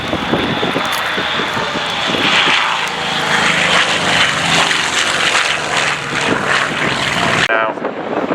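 Gloster Meteor jet passing overhead at an air day at RNAS Culdrose, a loud sustained engine roar that swells and holds for several seconds under an announcer's commentary, then cuts off abruptly near the end.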